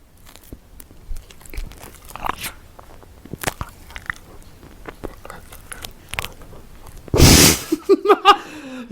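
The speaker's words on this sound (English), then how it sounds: "You can hear that first crunch though with that chocolate shaving." A close bite into a cream pie topped with chocolate shavings gives one loud, sharp crunch, followed by a few softer crackling chews; quieter mouth and handling noises precede it, with no talking.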